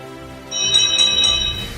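A steam locomotive's bright bell chimes in a quick run of three or four ringing strikes, clear and fairly loud, then fades.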